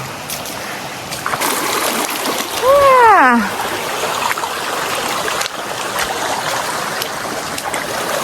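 A waterfall and stream on a trek flow in a steady rushing wash that fills the background, with a brief spoken exclamation over it.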